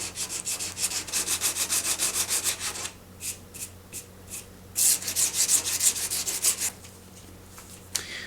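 Steady rhythmic scratching of sandpaper rubbing back and forth over a repaired surfboard rail, in quick strokes with a few brief pauses, close to the microphone.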